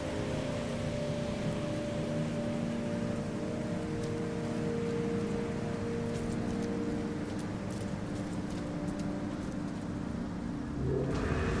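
Steady rain hisses on a planet in No Man's Sky, a continuous even wash of noise with a low hum beneath it and faint ticks scattered through.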